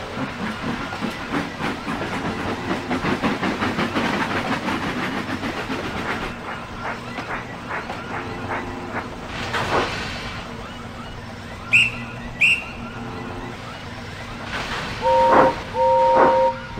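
A steam train chuffs and hisses in a steady rhythm, then brief whistle-like tones ring out over the rumble of the moving engine.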